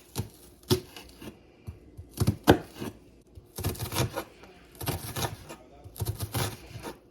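A knife chopping onions on a cutting board at home, brisk close clusters of rapid taps with short pauses between bursts, no talk.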